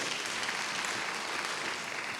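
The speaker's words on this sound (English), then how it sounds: "Okay, yeah, you can clap for that." A church congregation clapping during a Sunday service, a steady, full burst of applause filling the room without pause.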